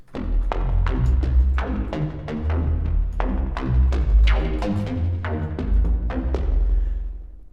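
Virus TI Snow synth plugin playing its Fat Key patch: a run of punchy keyed notes with sharp attacks and heavy low end, played in a steady rhythmic pattern, alone without voices.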